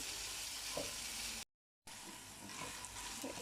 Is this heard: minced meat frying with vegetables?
yes